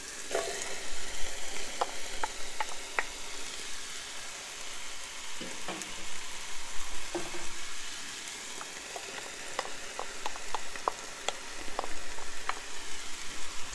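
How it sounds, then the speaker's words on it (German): Chicken pieces and vegetables frying in a Dutch oven for a chicken asparagus curry, with a steady close sizzle broken by scattered pops and crackles and an occasional stir, and no voices. "wenn das Hähnchen jetzt so langsam Röstaromen bekommt, wir wollen es jetzt nicht zu weit garen, weil es sonst später trocken wird, geben wir jetzt schon mal unser Gemüse dazu"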